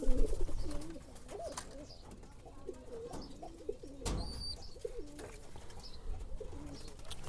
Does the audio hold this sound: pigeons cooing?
yes